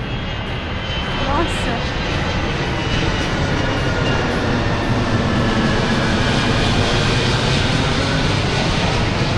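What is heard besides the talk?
airplane passing overhead near Guatemala City airport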